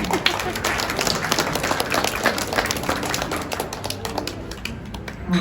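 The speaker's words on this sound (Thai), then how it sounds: "ขอเสียงปรบมือด้วยค่ะ" Guests clap at a Thai-Chinese wedding ceremony, a brisk patter of many hands that goes on for several seconds before thinning out, with some voices mixed in.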